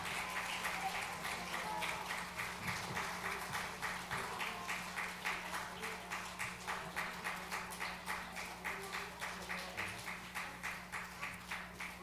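A church congregation at a Christmas Day service claps in steady rhythmic unison, a regular beat of many hands over a low hum, continuing evenly for the whole stretch.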